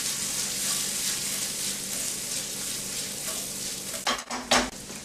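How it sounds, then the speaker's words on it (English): Morel mushrooms sizzle steadily in melted butter in a pan, a close, even hiss with a few brief clinks and stirring scrapes near the end. "once the butter's melted, we're going to add the morels"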